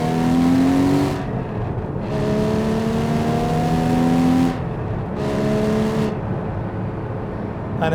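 A Porsche 981 GT4 engine revs hard under acceleration through several gear changes, loud and close, each pull rising in pitch before a short dip at the shift.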